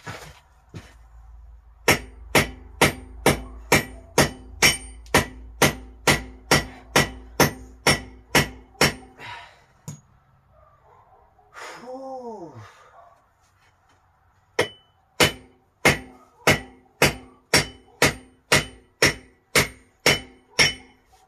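Hammer blows on concrete paving, loud, sharp metallic clanks struck in a fast steady rhythm, then a pause with a short whistling sweep before another run of regular blows.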